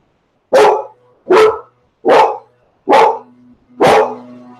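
A dog barks five times in a loud, evenly spaced series, each bark full and close, with a faint whine between the later ones and no talk.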